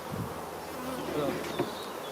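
Honeybees buzzing steadily in an opened hive being prepared as a queen-rearing starter, a dense close swarm drone with a few louder passes near the ear.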